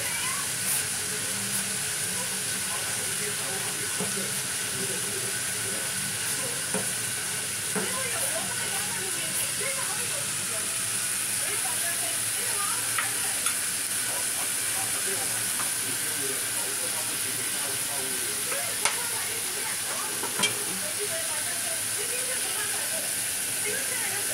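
Sliced bitter gourd (ampalaya) sautés in a pan, a steady, unbroken sizzling hiss running throughout with a few faint scrapes of stirring and a voice talking quietly over it.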